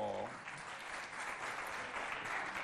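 Audience in a hall applauding schoolchildren after a dance performance, steady, full clapping heard from a distance and fairly quiet.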